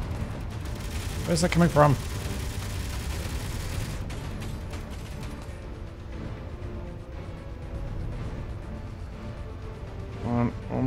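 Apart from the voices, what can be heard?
gunfire from an enemy ship in video game Space Engineers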